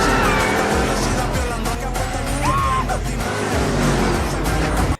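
Race cars roar off at the start of a film race, a loud continuous engine blare with shifting revving pitches and a brief yell-like burst, cutting off abruptly at the end.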